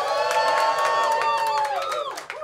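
Audience at a live music session at South by Southwest, a short loud burst of cheering and whooping voices that fades slightly toward the end.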